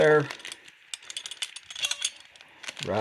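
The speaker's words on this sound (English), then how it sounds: "I actually just got a welding clamp here, and I'm just going to put it right" A metal welding clamp is snapped onto a wet-formed leather knife sheath, giving a series of close, dry ratcheting clicks and rattles, with a short burst of speech at the start and end.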